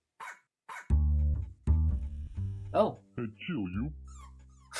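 A cartoonish dog in the video game Milo and the Magpies gives a few short barks and whimpering yips, loud and close, interspersed with a man's spoken exclamations.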